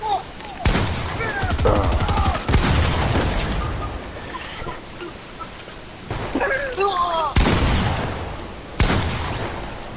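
Several sharp gunshot bursts ring out at irregular intervals, some close and loud, with people talking and calling out between and over the shots.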